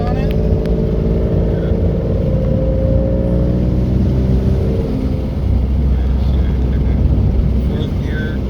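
A turbocharged 3.7 V6 Mustang running hard on a dyno in fourth gear, a loud sustained engine roar with rising tone over the first seconds, then a steady drone, close and constant.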